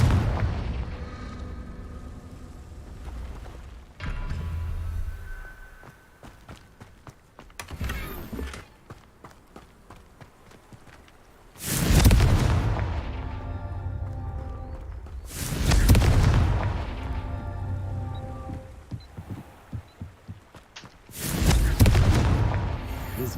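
Confringo spells blast rocks in the Hogwarts Legacy video game: three loud, deep booms a few seconds apart, each followed by a rumbling tail, between quieter stretches of crackling game ambience.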